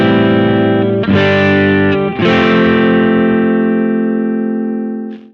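Electric guitar played through a clean 1979 AC30 clone amp set to low gain, with effects switched off: a few sustained strummed chords ring out loud and bright, each restruck about a second apart, then slowly decay alone.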